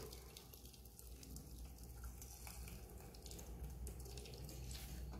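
Liquid splashes and trickles steadily as the second extraction of coconut milk is poured out for payasam, a continuous close wet stream with faint drips.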